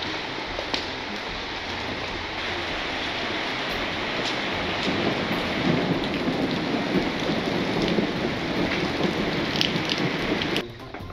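Steady heavy rain pours during a storm at the Hacienda Santa María Regla in Huasca de Ocampo, Hidalgo, making a dense continuous hiss with occasional sharper drips, constant and enveloping with no voices.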